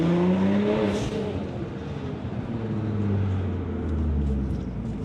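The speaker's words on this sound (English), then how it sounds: "the exhaust. It's awesome. I'll let you hear it from inside." Car exhaust rumbling steadily from inside the cabin, a loud low drone with a rising and falling engine tone and a faint high whine, continuous for the whole stretch with no talk.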